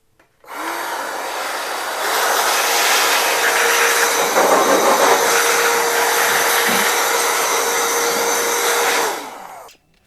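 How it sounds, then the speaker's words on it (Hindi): A vacuum cleaner whirs as it cleans dust from the fan and interior of an Asus Vivobook X540M laptop, switching on with a rising whine, holding a steady loud drone, then winding down. "फिर हम अभी वैक्यूम करेंगे थोड़ा।"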